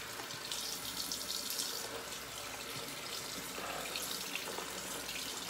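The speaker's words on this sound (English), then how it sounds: "Gonna have to add a bunch of water to it." A tap runs water to thin shaving soap, a soft, even hiss of flowing water heard alone and fairly faint for several seconds.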